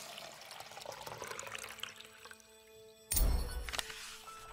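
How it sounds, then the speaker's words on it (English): Water runs and pours in the video game Lost Words: Beyond the Page, a soft trickle early on, then a louder, fuller splash of liquid near the end, fairly close and alone. "water"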